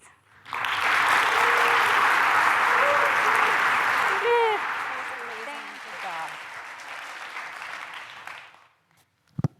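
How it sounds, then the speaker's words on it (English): A conference audience applauds its speakers at a geospatial research event on deforestation and permafrost: dense, sustained clapping from many hands that swells quickly, holds steady for several seconds, then tapers off, with a few voices calling out near the end. "Let's do another round of applause just for everybody"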